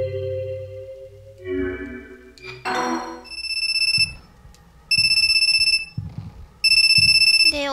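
A mobile phone rings in the horror video game CALLING, with bursts of a bright electronic ringtone repeating in a steady pattern after a few rising synth tones, loud and close with no talking.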